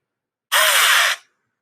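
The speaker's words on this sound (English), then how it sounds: "Let's just say I wanted to include something like this drill thing." A short, sharp burst of a power drill whirring for about half a second, loud and isolated against silence.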